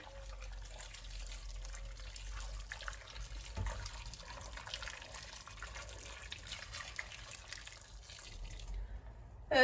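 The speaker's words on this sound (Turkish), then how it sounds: "Üzerine de kaynar su döküyorum." Boiling water poured over chicken pieces in a pot at home: a soft, continuous stream of liquid splashing and filling, quiet and close, with faint kitchen background and no speech.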